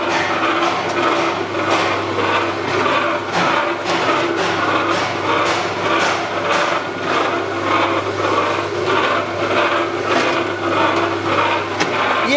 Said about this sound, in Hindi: कैसे रॉ मटेरियल डालते हैं मिक्सर में